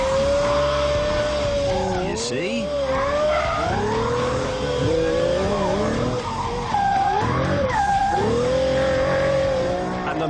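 An F-Roadster sports car corners hard on a track, tires squealing in long wavering skids over a loud engine that rises and falls, with someone speaking briefly over it.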